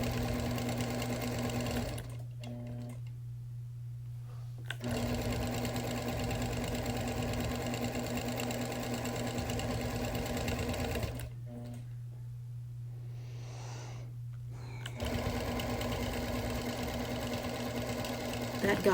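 A sewing machine outline-quilts a wool quilt in blue thread, running in long steady buzzing stretches with a strong low hum, halting twice for a few seconds each time before resuming at the same even pace.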